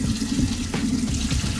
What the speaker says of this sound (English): Just pour the water out.